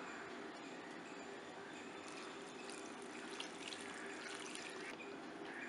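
Water poured over tamarind with a little salt and turmeric in a pressure cooker, a steady close trickle and splash that runs evenly throughout with no voices.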